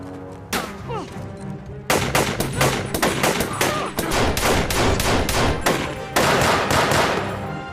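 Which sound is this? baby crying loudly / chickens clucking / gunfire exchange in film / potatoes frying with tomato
gunfire exchange in film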